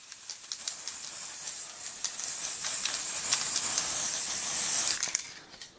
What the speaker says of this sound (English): start spraying with a spray into the static grass in those areas